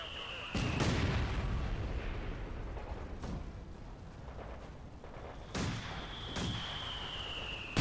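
Mortar fire in the World War II strategy game Company of Heroes 2 lands as several deep booming blasts and thuds spaced a few seconds apart, fairly distant, over a low battlefield rumble.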